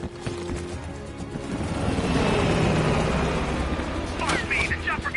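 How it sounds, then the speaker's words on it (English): A helicopter in the video game Call of Duty Black Ops Cold War flies off, its rotor and engine roar swelling and then fading, with gunfire and battle noise mixed in. "the chopper got away"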